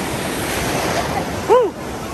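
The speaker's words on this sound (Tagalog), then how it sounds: "Lakas ang alon." Strong surf rolls and washes steadily at Motosuka beach, a broad roaring hiss of breaking ocean waves with a brief louder surge near the end, while people chatter faintly in the background.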